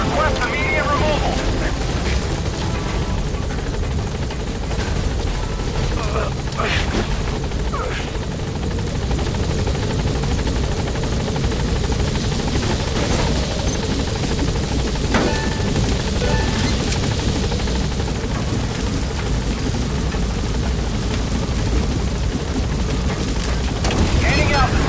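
Helicopter rotor noise from a military chopper trying to set down at a landing zone in Metal Gear Solid V, a loud, steady drone with no letup across the whole stretch.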